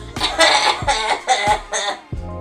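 A run of four or five harsh, chesty coughs in close succession, loud and near, with brief pauses between them.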